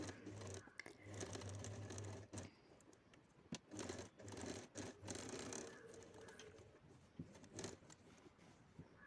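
Sewing machine stitching fabric for a lotus-pattern piece, running in steady mechanical bursts with short pauses between runs, close and fairly quiet.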